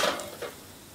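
Asafoetida drops into hot ghee in a pan for a dhaba-style dal fry tempering, giving a brief soft sizzle with a light stir or clink, close and quiet, and no voice heard.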